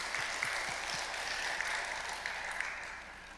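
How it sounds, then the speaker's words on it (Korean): A church congregation at a Friday prayer service in Daegu's Seomun Church applauds together, a moderately quiet, even wash of many hands clapping that tapers slightly at the end. "하나님께 영광의 박수를 올려드립니다"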